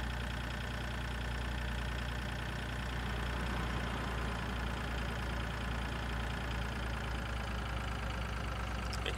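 A tractor engine idles steadily in a farming simulator while unloading, a constant loud low rumble with a knocking texture that holds unchanged throughout, with no talk.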